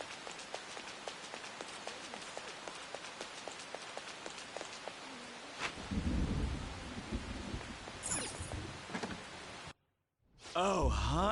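Steady rain pattering on a surface with a deep rumble of thunder rolling in partway through, followed by a brief silence and a burst of voice at the end.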